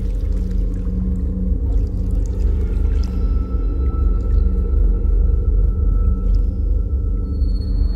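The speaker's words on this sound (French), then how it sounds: "Les eaux expulsées s'écoulent en une multitude de ruisseaux multicolores." Hot spring water runs in many small multicolored streams across a Yellowstone thermal area, a steady low rushing and trickling wash that stays constant and close throughout.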